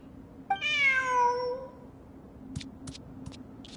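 A single drawn-out video game cat meow from Genshin, clear and close, followed by a few soft clicks over a low steady hum.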